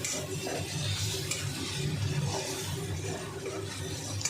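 Soft loitta fish is stirred and mashed in a frying pan, breaking apart as it cooks. A steady close sizzle is overlaid with continuous scraping and stirring noise, with no speech.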